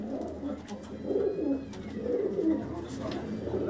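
Soft racing pigeon coos rise and fall in repeated low, throaty phrases, moderately close, with faint background noise.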